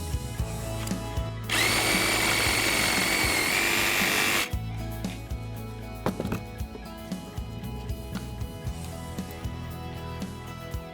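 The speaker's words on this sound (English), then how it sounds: "when I get to the bone, I'm gonna use this Sawzall" A Sawzall reciprocating saw cuts through deer bone during skinning, a loud steady buzzing burst lasting about three seconds, followed by scattered knocks and handling clatter up close.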